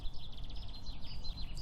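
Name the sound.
birdsong outdoors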